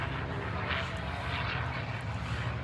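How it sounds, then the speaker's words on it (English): Propeller airplanes flying over a hamfest near a warbirds control tower, giving a loud, steady engine drone that fills the whole stretch without a break. "There's airplanes."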